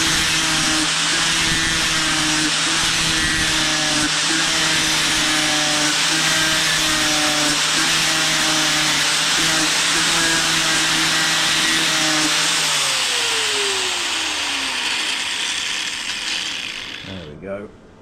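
An angle grinder runs continuously at close range grinding down a weld on a tube joint, a steady high whine with fluctuating pitch from the disc on metal, then spinning down and stopping near the end.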